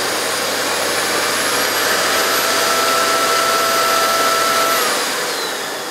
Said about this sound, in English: it is hard to judge the sound level of vacuum cleaner, but it is pleasantly quiet, this machine, especially on a lower setting